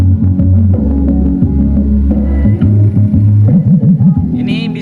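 A CLA speaker box tuned toward low-mid bass pumps loud, throbbing bass notes in a repeating pattern, with thumping low tones and some wobbling pitch slides near the end, no talking over it.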